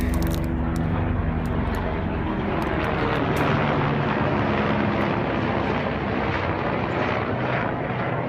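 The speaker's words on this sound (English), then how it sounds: "that is a Life Flight helicopter." A Life Flight medical helicopter passes overhead outdoors, a steady broad rotor-and-engine drone that holds at moderate loudness throughout, with no talk over it.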